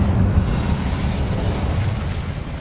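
A burst of Incendio fire magic in Hogwarts Legacy: a dense, rumbling whoosh of flame that holds loud and steady for the whole short moment, with no voices.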